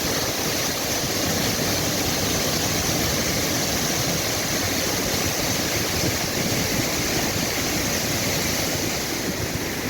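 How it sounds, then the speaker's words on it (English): Full river water rushes loudly and continuously near waterfalls in a moist, mossy setting, a dense unbroken roar with no voices. "There's a lot of water in the river today."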